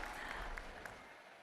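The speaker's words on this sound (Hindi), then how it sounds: "जोरदार तालियों से अभिनंदन करें," A crowd applauds to welcome women from self-help groups onto the stage at a public event, a brief burst of continuous clapping that fades over about a second and a half.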